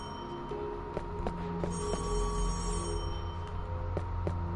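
A telephone rings in the video game Death end re;Quest 2, with repeated electronic bell trills in a steady rhythm over soft background music.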